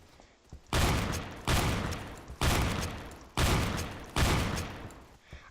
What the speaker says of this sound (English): I got a double kill from the ground, shooting up with a shotgun.